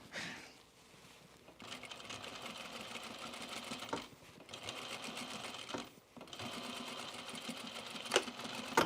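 A sewing machine stitches trousers with elastic in short bursts of rapid mechanical whirring, separated by brief pauses, fairly close and moderately loud.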